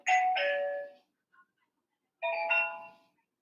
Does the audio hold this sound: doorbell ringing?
yes